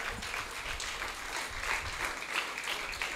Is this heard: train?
no